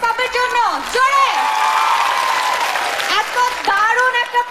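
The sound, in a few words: concert audience applause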